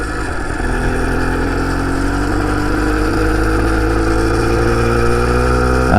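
A 2-stroke motorized bicycle engine drones steadily and loud throughout a test ride, holding a buzzing, constant rev with no breaks or voices.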